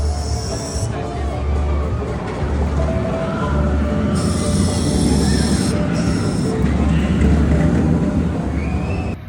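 The Goliath RMC roller coaster at Six Flags Great America rumbles along its track with steady loud rolling roar, wheel squeals and clanks, and occasional faint voices mixed in.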